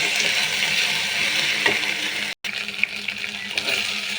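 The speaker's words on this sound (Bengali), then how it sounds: "এখন আমি একটু একদম ভাজা ভাজা করে নেব যাতে এখানে কাঁচা গন্ধটা না থাকে" Masala spice paste with garlic fries in a pan for beef curry, a steady crackling sizzle with occasional stirring scrapes and one brief dropout, no speech.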